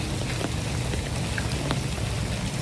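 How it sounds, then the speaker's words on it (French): Rain falls steadily outdoors near a road in Dakar, Senegal, making a close, dense patter with no voices. "Et il a commencé à pleuvoir."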